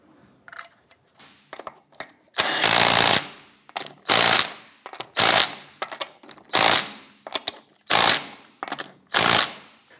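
An impact wrench snugs lug nuts onto a 1997-2006 Jeep Wrangler wheel in a series of loud, close rattling bursts, roughly eight of them, separated by short gaps with faint clinks.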